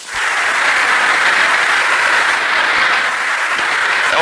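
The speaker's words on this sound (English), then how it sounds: "Even Miss Hard applauds." Sustained applause from a tennis crowd at Althea Gibson's final against Darlene Hard, a dense even wash of clapping throughout, slightly distant and without voices.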